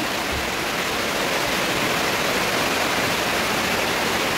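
Heavy rain pours down in a dense, unbroken hiss of rushing water, loud and steady throughout with no voices.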